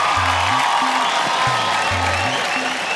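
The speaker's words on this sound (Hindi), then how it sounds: "जोरदार ताली अंजना के लिए" Audience at an Indian Idol Junior singing show applauds for young contestant Anjana, a steady wash of clapping and crowd noise under a few low tonal musical stings from the studio.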